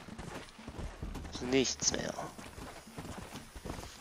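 Donkey hooves clip-clopping in the Red Dead Redemption multiplayer video game, a few steady hoof beats under game noise while someone talks over them.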